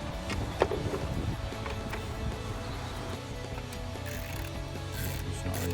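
A ratchet socket wrench works on coil bolts of a 2011-2017 Mustang GT, with clicking and mechanical clatter under a steady background hum.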